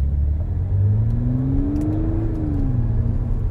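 Supercharged V6 in an Audi S5 coupe revving with a steady low exhaust drone, the pitch rising smoothly and then easing back down, heard from inside the cabin with no talking.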